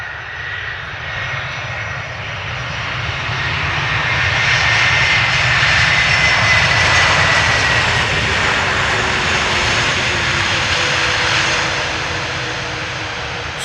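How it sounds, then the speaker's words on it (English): Delta Air Lines Airbus A330-300 arriving at Amsterdam Schiphol, a loud steady jet roar that swells to a peak mid-pass and then holds as a broad rumble as the aircraft touches down and rolls out. "Here we have Delta Airlines flight 162 arriving from Minneapolis, Minnesota. A330-300."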